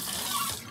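Filtered water pours steadily from a tap into a baby bottle fitted with a stopper, a close continuous splashing stream that lasts under a second and tapers off at the end.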